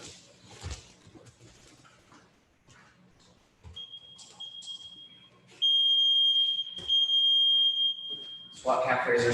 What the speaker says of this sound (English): I'm going to set the timer for us.